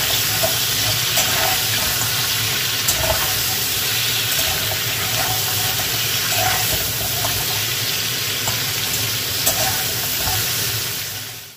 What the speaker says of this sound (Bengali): এবার কড়াইতে সর্ষের তেল দিয়ে কাঁকড়াগুলো দিয়ে বেশ ভালো করে ভেজে নিতে হবে